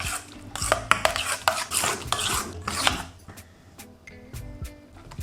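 Dill sauce for fish and chips is stirred in a bowl, a close run of wet scraping and rubbing strokes that give way to lighter clinks and taps of a utensil.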